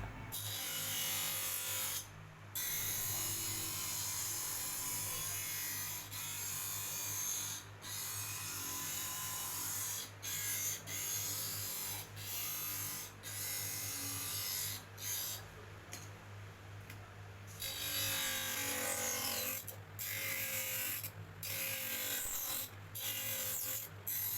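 A lens edging machine cuts and grinds an eyeglass lens to shape, giving a continuous close whirring grind with brief breaks and clicks as the lens is handled.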